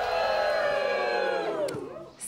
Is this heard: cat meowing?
no